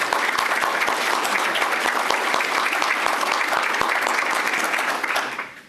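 Sustained applause from an audience at a county board meeting honoring an award recipient, dense steady clapping throughout that fades out at the end.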